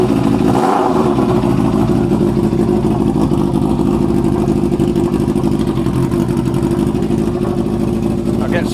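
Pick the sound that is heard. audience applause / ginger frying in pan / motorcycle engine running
motorcycle engine running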